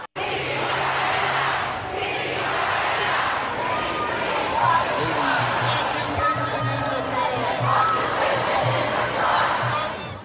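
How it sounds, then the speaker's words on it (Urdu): A large protest crowd chanting Free Palestine slogans at a demonstration in an American or Japanese city, a continuous roar of many voices with rhythmic shouted chants rising and falling throughout. "فری فلسطین کے نعروں سے امریکی اور جاپانی شہر گونج اٹھے"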